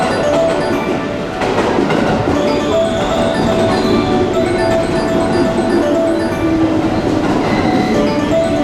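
JR West Yamatoji Line train at Tennoji station, a steady rumble and clatter of rolling cars with bright metallic tones, loud and continuous through the platform ambience.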